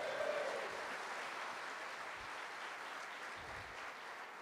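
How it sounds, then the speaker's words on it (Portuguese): Applause from a church congregation during a sermon, a steady broad wash of clapping that holds through the whole stretch at moderate level with no voices over it. "Então dá um glória a Deus e aplaude ao Senhor Jesus Cristo."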